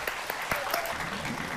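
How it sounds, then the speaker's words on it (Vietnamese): Audience applause for a man invited to sing on a matchmaking dating show, dense steady clapping from a studio crowd sustained throughout, with a few sharper claps standing out near the front. "Rồi vỗ tay cho bạn trai đi em."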